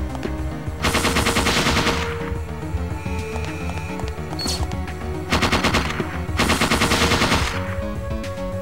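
Loud bursts of rapid automatic gunfire from a fight with golems in the video game Parasite Eve 2, two long volleys separated by quieter mechanical clicks and game sounds.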